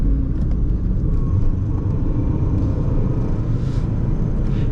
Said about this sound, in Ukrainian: ну Перегазовочку